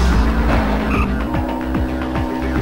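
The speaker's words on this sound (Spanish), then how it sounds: "Está yendo muy rápido el carro." A race car speeds along a track in the video game Hot Wheels Turbo Racing, its engine droning loudly and continuously, with tire squeal and skidding layered over it.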